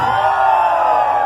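A crowd at a New Year's Eve sound system party in Irituia, Pará, roars in one sustained loud shout, voices massed together and close with no pause.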